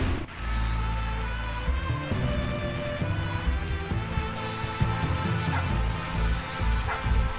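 A dog in a video game barks and yips in quick, bright bursts over steady game music, with occasional crashing effects.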